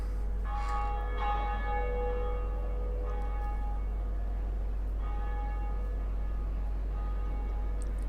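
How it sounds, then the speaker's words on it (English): The Bell of Awakening rings in the Undead Parish of the video game Dark Souls: several resonant, clanging strikes with long, shimmering decays that overlap and linger. "let's ring this first bell of awakening."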